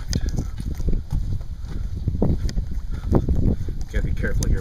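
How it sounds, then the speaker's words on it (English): Gusty wind buffets the microphone on an Algonquin lake during a solo canoe portage, a rough rumbling roar rising and falling throughout, with knocks and rustles close by. "Oh, and of course it's windy on Little Otterslide."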